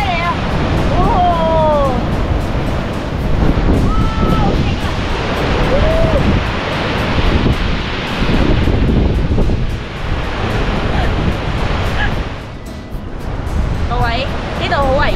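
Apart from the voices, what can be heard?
large ocean waves crashing on rocky shore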